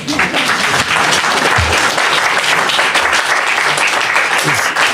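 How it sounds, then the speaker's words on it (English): Audience applause breaks out at a personal testimony event, a dense, steady wash of many hands clapping at close range for the full stretch, with a faint voice or two beneath it. "If anybody feels like applauding, you can applaud"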